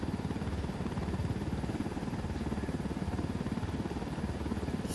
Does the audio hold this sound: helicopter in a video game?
yes